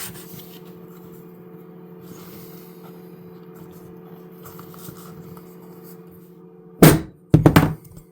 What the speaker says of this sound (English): I'm going to sandpaper them and let's see.